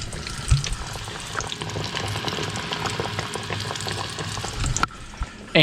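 Asian carp fillets sizzle and crackle steadily in hot oil, a continuous frying hiss with small pops and a few louder bumps as a piece goes in, the sizzle dropping briefly near the end.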